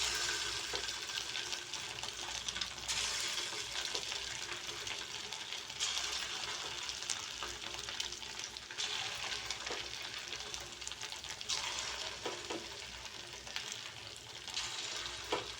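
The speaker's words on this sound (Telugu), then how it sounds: "ఇదే ఆయిల్లోకి మనం పిండి కలిపి పెట్టుకున్నాం కదా పునుగుల కోసం, అవి కూడా సేమ్ ఇలా చిన్న చిన్న పునుగుల్లా వేసేసుకోండి." Small balls of punugulu batter frying in hot oil give a steady, close, broadband sizzle with soft bubbling crackle that runs continuously throughout, with no talking.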